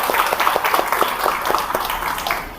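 A small crowd claps together at a dance event, a brief patter of fairly even applause heard close and without talk.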